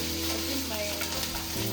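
Onions and green peppers fry on a stove for jollof rice, giving a steady close sizzle with light stirring scrapes throughout and no voices.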